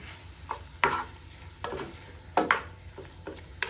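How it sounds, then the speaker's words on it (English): A spoon stirring onions and pasta in a pan for an Italian mixed pasta dish, giving irregular scraping clatters and soft knocks against the pan over a faint sizzle, with no voices. "we had onions, mix everything together."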